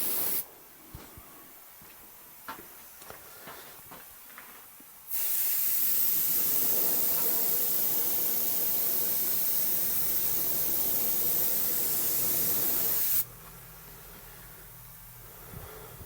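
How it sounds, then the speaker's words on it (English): Spray can laying down a paint burst on a Telecaster guitar body: a loud, steady hiss running unbroken for about eight seconds, with quieter handling and faint clicks before and after. "doing a burst with a spray can"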